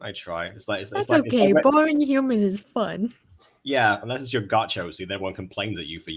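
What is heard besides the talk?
No everyday noise stands out behind the speech.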